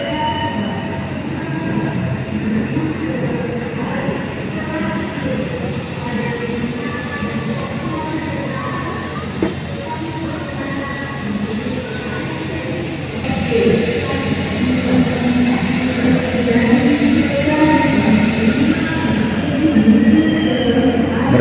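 Whoosh high-speed train pulling into platform 2 after a Bandung earthquake, a long rolling rumble with squealing wheels and a thin high whine that grows slightly louder near the end, heard up close and alone.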